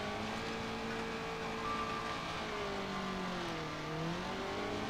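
Fan-made car in BeamNG with an old race-car engine note revs and drones, pitch rising and falling in steady sweeps, quiet but continuous throughout.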